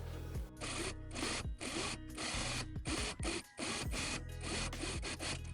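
A sewing machine stitches ruffled mini skirt pieces together in close, rapid mechanical bursts, with brief pauses between runs of stitching.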